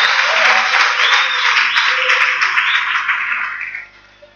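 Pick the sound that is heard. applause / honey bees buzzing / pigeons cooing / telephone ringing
applause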